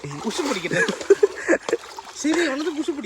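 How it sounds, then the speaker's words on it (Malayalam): Water splashes in a shallow summer stream as someone does push-ups in it, with uneven splashes and sloshes close by and people talking over them. "പുഷപ്പ് അടിക്കുന്നു വെള്ളത്തിൽ."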